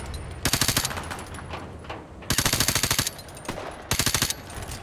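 Automatic rifle fire in Call of Duty Modern Warfare Remastered, three loud rapid bursts of shots separated by short pauses, with a faint background hum between bursts.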